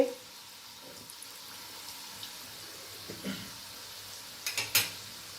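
A breakfast farsan snack frying in oil on a medium gas flame makes a soft, continuous sizzle, with a few sharp clinks of a utensil against the pan near the end.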